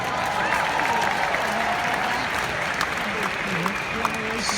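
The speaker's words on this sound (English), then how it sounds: "Y'all want to give Hannah a round of applause real quick?" Crowd applause for a speaker named Hannah at a political event: sustained, even clapping from a roomful of people, with a few voices mixed in.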